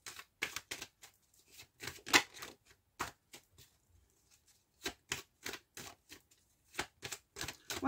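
Tarot cards being shuffled for a fresh draw: a series of short, crisp riffling bursts in uneven clusters, fairly close and quiet, with brief pauses between them and no talking.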